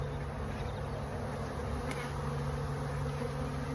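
Honeybees buzzing inside an opened hive while winter supers are lifted off, a dense, steady, close swarm drone that holds evenly from start to finish with no talk.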